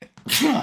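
A person sneezes once, close and loud, in a short burst right after another person says a word.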